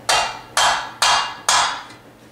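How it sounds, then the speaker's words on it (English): Four sharp metallic hammer strikes on a center punch into metal, evenly spaced about half a second apart, each ringing briefly before fading; no talking. "I want to center punch this hole so my drill doesn't walk when I start drilling"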